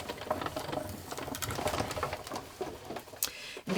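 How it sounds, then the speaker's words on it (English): A die-cutting machine rolls a quilted ornament between cutting pads, making a steady close mechanical whir with small clicks and rattles throughout. "I'm going to go ahead and just roll this through the machine"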